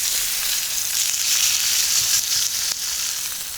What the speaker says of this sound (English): I'm literally just going to cook the sea bass